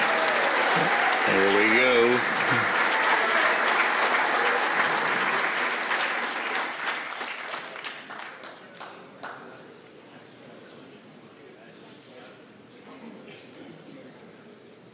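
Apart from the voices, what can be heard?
audience applause at a 9-ball pool match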